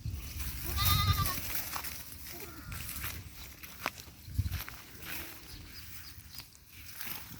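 White goats on a farm bleat a few times at middle distance amid rustling and footsteps, fairly faint against the open-air background.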